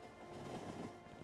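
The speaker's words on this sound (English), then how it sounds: "Oh, the train's coming in." A train arriving in the video game Factorio makes a steady, faint, broad rolling rumble that holds level throughout, with no voices.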